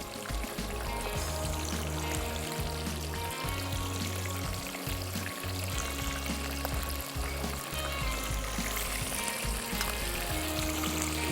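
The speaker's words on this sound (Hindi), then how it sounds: "जनाब यहाँ पे हमारे विंग जो हैं वो हो रहे हैं फ्राई।" Chicken wings deep frying in hot oil give a steady, loud, unbroken sizzle and bubbling hiss that runs the whole time with no voices over it.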